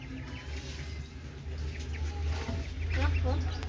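A chicken clucks in short, soft bursts near the end, set against a steady low engine-like rumble and background chatter in a rural yard.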